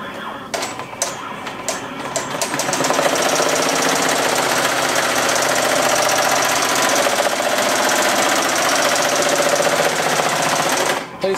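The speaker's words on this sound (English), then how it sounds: "it's set on 800 stitches a minute. I think I'm going to go ahead and speed that up to 900" An embroidery machine stitches out a patch at 900 stitches per minute, giving a loud, rapid, steady mechanical chatter close up. It begins after a few clicks, runs continuously and stops abruptly near the end.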